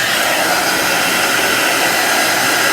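A hair dryer blows on wet chalk paste on a Halloween sign, producing a loud, steady, close whooshing roar without a break.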